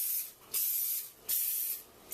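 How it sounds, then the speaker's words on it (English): Three short hissing bursts of cooking spray coat a muffin tray, each puff lasting about half a second with brief pauses between, close and crisp. "Give it a little spray."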